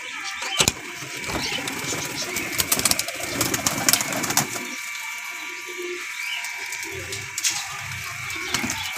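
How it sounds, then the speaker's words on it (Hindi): Pigeons pouring out of their coop to feed on grain, with scattered coos and bird calls, sharp bursts of wing flapping and a voice now and then over a steady background hum. "तकरीबन आ गए ने बाहर सारे कबूतर"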